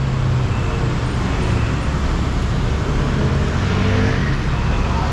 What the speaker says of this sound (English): And now the traffic, the royal traffic is back.